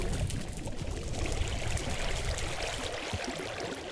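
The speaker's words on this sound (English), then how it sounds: "I'm struggling going up the waterfall" A waterfall flowing in the Minecraft video game during a Hunger Games match, a steady, even rushing wash of water that holds throughout with no speech.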